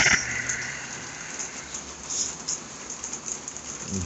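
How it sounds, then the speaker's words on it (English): Rain falls steadily outside, a constant hiss of drops with scattered brighter patters on a surface, heard alone without talk. "I didn't even realize it was raining until I got up and looked outside"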